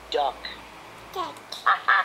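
A person mimics a duck with a few short, nasal quack-like sounds up close, uneven in spacing and rising in loudness toward the end.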